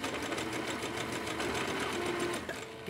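A sewing machine stitches stretch knit fabric as it is gently guided through, giving a steady, continuous mechanical whir with a fast rhythmic needle pulse, close and even throughout.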